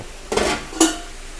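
Rice pilaf is served from a metal pot in a kitchen. Two distinct metallic scrapes of a utensil against the pot, close and clear, over a quiet background with no talking.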